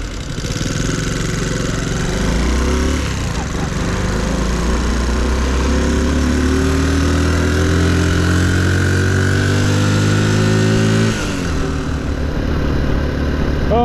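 A Cub motorcycle engine runs loud and close on the road between Marlborough and Hereford, revving up through rising buzzy notes before easing off near the end.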